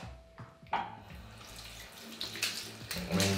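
Running water rinses conditioner out of a hair system, a wig-like hairpiece, with a soft, steady splashing stream that swells and shifts as the hair moves under it; fairly quiet, with no talking.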